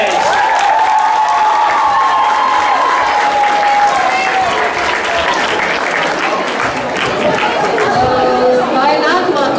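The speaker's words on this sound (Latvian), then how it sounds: "Aplausi vēlreiz!" Applause from a school audience at an aerobics day for seventh and eighth graders fills the clip, steady dense clapping mixed with crowd chatter and a voice speaking over it throughout.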